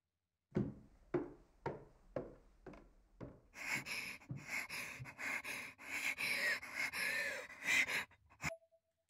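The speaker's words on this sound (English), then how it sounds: "Her breathing became more and more erratic as her body rocked with convulsions." Erratic, gasping breaths from the horror game Corpse Party: Blood Drive, starting as a series of sharp, evenly spaced gasps, then dissolving into a dense, loud run of ragged panting and rustling before cutting off abruptly.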